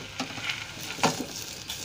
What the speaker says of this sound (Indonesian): Sekarang kita masukkan boba yang udah kita tiriskan tadi